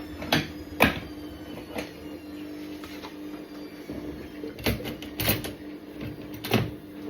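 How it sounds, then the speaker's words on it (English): Irregular clattering and knocking of dishes and a rack being shifted around, with scattered sharp clacks over a steady background hum. "Just rearranging my drain board"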